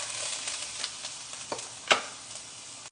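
Ginger stir-fried in a pan for beef with broccoli, mushrooms and tofu, a continuous bright sizzle with a few sharp scrapes and clinks of the utensil.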